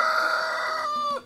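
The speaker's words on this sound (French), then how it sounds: "vous avez pu entendre son magnifique petit cocorico, mais bien sûr à sa façon" A brown rooster crows once, loud and close, its call rising and then trailing off near the end with no voices present.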